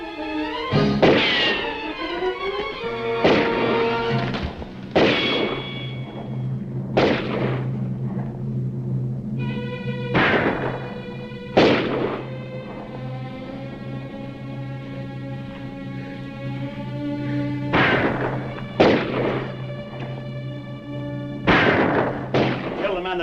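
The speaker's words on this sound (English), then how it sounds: "Keep shooting." Sharp gunshots in a western film shootout ring out about a dozen times at irregular intervals, loud and close, with sustained orchestral music underneath.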